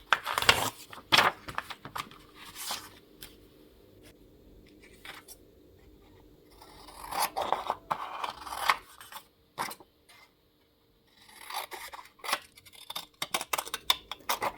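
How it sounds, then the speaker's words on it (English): Decorative scissors snip along the edges of craft paper, giving short crisp cutting bursts separated by pauses, close and fairly quiet. "I cut the edges with decorative scissors"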